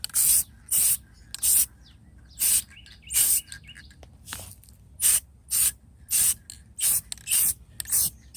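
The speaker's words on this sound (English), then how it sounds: "we're going to use this for our clear spray" Repeated short bursts of aerosol clear coat spray hissing onto a metal sign, about a dozen in a steady on-off rhythm, close by, with quiet gaps between.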